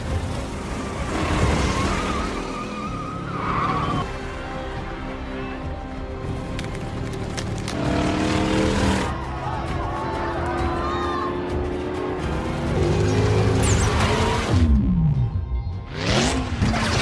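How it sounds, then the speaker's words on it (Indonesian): A racing car speeds flat out in a street-race film scene, its engine climbing through revving gear changes over background music, with tire noise and crowd sounds mixed in. It is loud and continuous throughout. "Mobil yang digunakan Dom memang melaju kencang"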